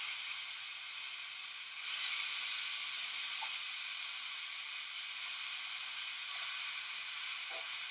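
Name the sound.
onion sizzling in a frying pan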